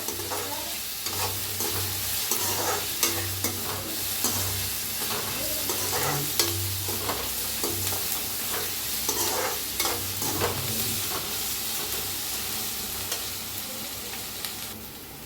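Onion sizzles steadily in a hot pan for egg fried rice while a spatula stirs it, with repeated close scraping strokes over a constant loud frying hiss.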